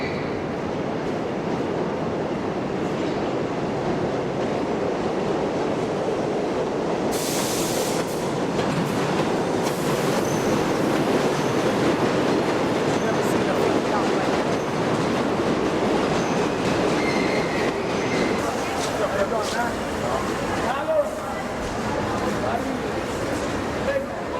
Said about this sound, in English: This is the train we'll end up getting on.